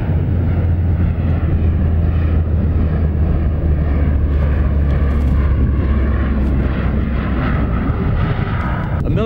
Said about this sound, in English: A military aircraft just flew over.